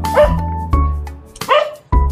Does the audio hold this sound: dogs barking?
yes